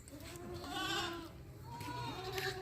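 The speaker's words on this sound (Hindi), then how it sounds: "बड़ी साइज की बकरी है" A large goat of the pink Rajanpuri breed bleats in long, wavering calls close by on a livestock farm, with someone speaking faintly in the background.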